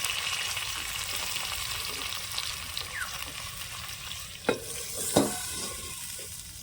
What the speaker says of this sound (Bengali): এখন একটু এভাবে ঢেকে দেবো দুই তিন মিনিটের জন্য সবজি থেকে যে জলটা বের হবে সেটাতেই সবজিগুলো সেদ্ধ হয়ে যাবে